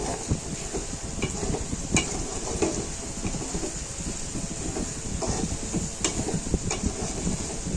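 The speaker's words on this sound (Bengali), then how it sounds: "এখন এই যে মশলা কষাচ্ছি" Spices are stir-fried in a pan with a constant close sizzle, while repeated scraping and stirring strokes from a spatula sound throughout.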